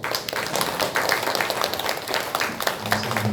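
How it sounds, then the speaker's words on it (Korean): A church congregation claps in thanks, a broad, steady wash of many hands with a few sharper claps standing out. Near the end a low voice or tone enters under the applause. "격려의 감사의 박수"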